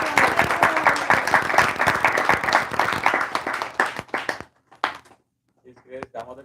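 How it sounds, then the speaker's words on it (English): An audience at a Sunday temple feast gives a round of applause, a lively burst of many hands clapping that thins out after about four seconds into a few scattered claps, then a voice starts speaking. "So let's give a big round of"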